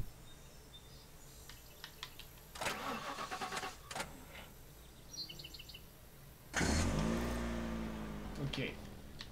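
A car engine starts in the video game The Last Stand: Aftermath: clicks and rattles, then the engine catches and settles into a loud steady idle.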